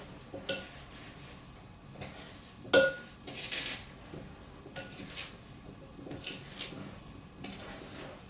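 A utensil scrapes and clinks against a bowl as berries for a double berry cobbler are stirred to coat them, several irregular knocks and clinks at close range.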